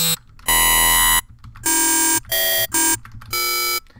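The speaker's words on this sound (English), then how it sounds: "And this is a result of the ring modulation that we hear." High-pitched growl synth patch built in Serum with heavy ring modulation, blaring in loud harmonic-rich bursts of uneven length with brief gaps between them, no voices.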